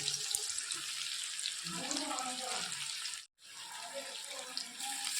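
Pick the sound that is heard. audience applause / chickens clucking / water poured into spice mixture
water poured into spice mixture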